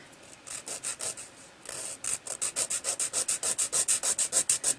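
A nail file is drawn back and forth across a teabag nail extension built with Orly Nail Rescue, giving dry, raspy strokes that start uneven and then settle into a quick, regular sawing rhythm close up.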